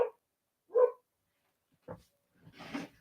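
A dog gives a few short, scattered barks and yips at moderate distance, with quiet gaps between them.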